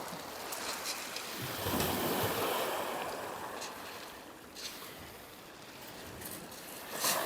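Ocean waves rolling in and breaking on a shoreline at night while hunting Yooperlites, a steady washing surge with swells building and fading, no voices over it.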